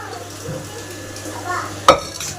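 Boiled chickpeas tipped into a pan of sautéed potatoes: a soft sizzle and faint stirring, then a single sharp clatter as they hit the pan.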